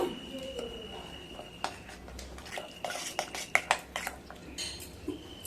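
Semolina batter stirred with sour curd and water in a bowl, a spoon scraping and clinking against the sides in irregular close taps and swishes, with no talking.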